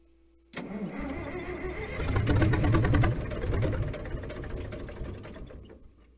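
An International TD-18 crawler's engine cranks hard and sputters, roaring up as if trying to catch, then falls back to labored cranking over about six seconds. Loud and close, with no voices, out in frozen wilderness.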